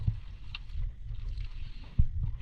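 A small fishing boat rocks on the water during a storm, low thuds and knocks against the hull coming irregularly amid light wind noise, with no talking.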